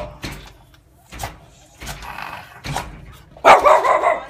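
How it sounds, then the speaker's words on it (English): A rescue pup barks in short, loud bursts, several spaced barks outdoors with a louder, harsher run near the end, close to the listener. "he'll bark at the person, won't bite them"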